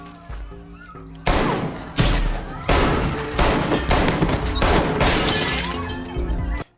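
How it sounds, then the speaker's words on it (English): Several loud, sharp gunshots from a film burst out one after another at roughly regular intervals, echoing heavily over a low rumbling background. "the gunshots, you know, they sound pretty good to me"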